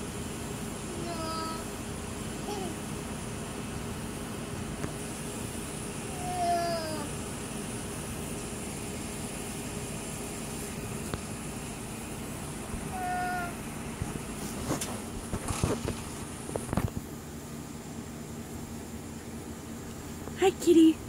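A cat meows several times, the calls short and fairly faint, spread across a steady background hum with occasional bumps and handling noise, and a louder sound near the end.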